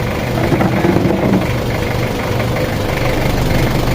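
A Nissan Frontier D22 pickup engine idling steadily after a knocking repair, a loud, even, low rumble close to the microphone with no clear knock.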